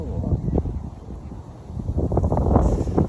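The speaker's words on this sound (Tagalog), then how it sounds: "Malakas ang hangin eh." Strong, cold wind by the sea gusts against the microphone in rough, uneven bursts, roaring loudly and building toward the end.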